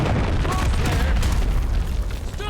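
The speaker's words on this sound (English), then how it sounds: "Hostiles launched a cruise missile." Cruise missile detonation in Call of Duty MW3, a heavy rumbling boom that fills the clip and trails off, loud and close with game chatter mixed in.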